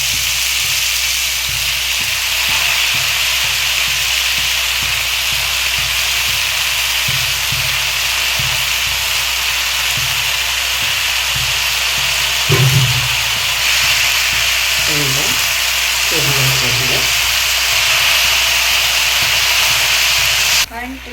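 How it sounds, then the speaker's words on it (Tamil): Chopped greens sizzle and hiss steadily in a pan while being sautéed for a tomato pepper chutney, with a loud continuous fry and occasional stirring knocks and scrapes. "நம்ம அரிஞ்சு வச்சுருக்கோம்ல கீரை, இதையே போட்டு வதக்கிக்கணும்"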